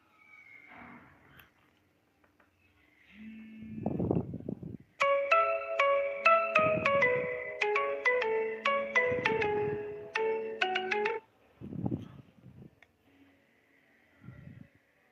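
A mobile phone ringtone for an incoming call interrupts a science revision lesson: a bright, repeating electronic melody plays for several seconds, with short bursts of background sound before and after it.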